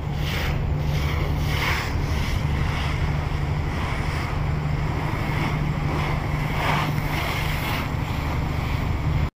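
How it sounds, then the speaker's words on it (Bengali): Rough waves on the Meghna river near the Ilisha ferry ghat in Bhola, with engine-powered dinghy boats racing along; a continuous loud wash of surf and wind rumbles throughout, with a steady low engine drone underneath. "সাগর কিন্তু এই মুহূর্তে আমরা দেখতে পাচ্ছি উত্তাল ঢেউ।"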